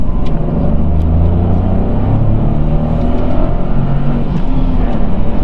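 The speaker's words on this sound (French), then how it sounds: "Petite dernière accélération." A Renault Clio IV's small engine hums steadily and rises in pitch as it accelerates, a continuous loud rumble with no voices.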